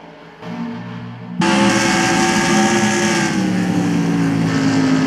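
A field of NASCAR stock cars in the video game NASCAR Racing 2003 roars back to green at ISM Raceway, a low idle suddenly jumping into a loud, sustained, layered engine drone.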